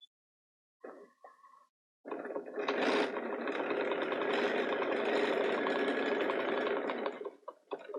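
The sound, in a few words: Bernina sewing machine stitching around fabric edges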